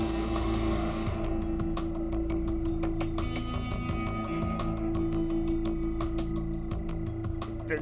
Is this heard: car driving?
yes